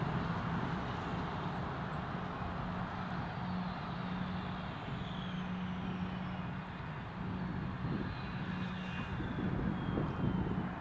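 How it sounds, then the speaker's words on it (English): An Emirates Boeing 737-800 jet comes in to land at Newcastle airport, a broad steady roar of engine noise with a faint whine, heard from a distance, with no talking. "The Emirates and Ascend Airways 737-800 landing very shortly."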